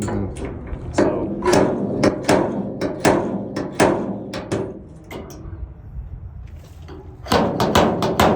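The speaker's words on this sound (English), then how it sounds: "Just get the hammer, hit it a little bit." Hammer blows on a car build project, an 84 C20 truck, land in irregular bursts of sharp, close knocks against metal and wood, with a short quiet gap before a final flurry of strikes.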